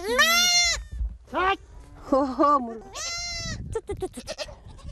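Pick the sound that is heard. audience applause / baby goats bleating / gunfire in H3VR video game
baby goats bleating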